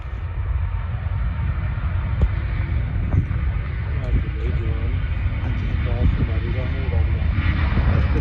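A Thai Airways jet airliner roars on takeoff, a deep, rumbling engine drone that holds steady while someone talks over it.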